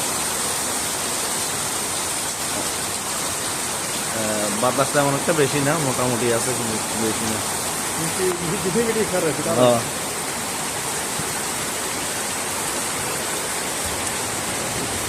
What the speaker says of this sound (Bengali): ফেনীতে অনেক বৃষ্টি হইতেছে, প্রচুর পরিমাণ বৃষ্টি হইতেছে